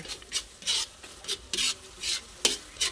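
Butter shrimp being stirred in a frying pan, a steady sizzle broken by repeated scraping strokes in a quick irregular rhythm, close and clear with no voices.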